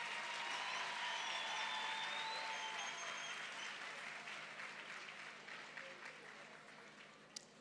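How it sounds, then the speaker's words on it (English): Sustained audience applause at a National Science Month launch ceremony on a university campus, greeting the deputy minister as he comes on stage; steady, dense clapping from a large crowd that slowly fades toward the end. "And can we please give a round of applause for the Deputy Minister?"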